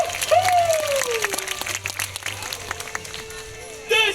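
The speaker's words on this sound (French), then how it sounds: "on l'applaudit" Audience clapping on a French variety show stage, scattered claps mixed with a rising whoop and voices that carry over the top before fading out.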